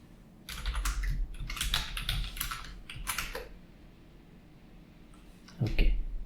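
Bursts of quick, close typing on a computer keyboard, clattering in several runs with short pauses between them and a final flurry of keystrokes, no voices over them.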